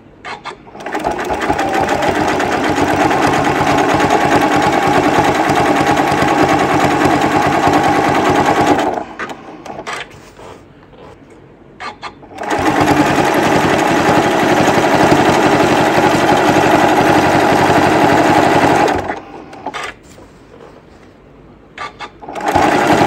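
A sewing machine runs a triple zigzag stitch along quilt binding in two long, loud, steady bursts, pausing briefly between them before starting again at the end.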